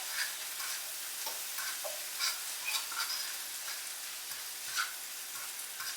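Mexican-style corn fries in a skillet with a steady, bright crackling sizzle and scattered pops, close by and moderately loud, with no voices.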